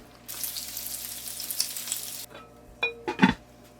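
Chicken with onions and garam masala sizzles loudly in a pan for a couple of seconds, then drops away, giving way to a few sharp stirring clatters and scrapes near the end.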